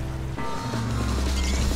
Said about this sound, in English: A waterfall. Seriously.